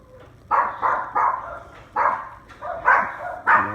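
Dogs barking nearby, a series of about seven sharp, loud barks in an uneven rhythm with short gaps between them.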